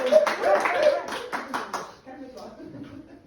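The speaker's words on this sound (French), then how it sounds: "Oh, vous pouvez l'applaudir aussi" A church congregation applauds during a worship service, a burst of clapping that is loudest at the start and fades after about two seconds, with voices murmuring underneath.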